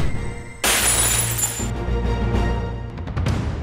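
A flower vase shatters indoors in a drama scene, a sudden loud crash of breaking glass or ceramic followed by scattered tinkling fragments settling.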